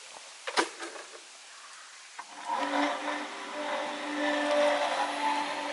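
A water pump used to irrigate lime trees starts up after a couple of soft clicks, rising into a steady whirring hum with a faint tonal whine that holds until the end.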